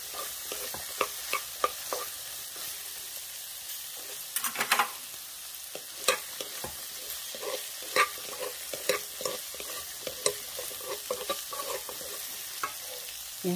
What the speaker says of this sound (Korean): 마늘이 타기 때문에 한 중불 정도에서 볶아주세요